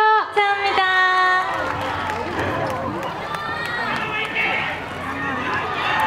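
Outdoor concert crowd at a show at Seowon Valley Green Concert claps and cheers loudly, with high excited shouts over steady applause and a voice speaking through it.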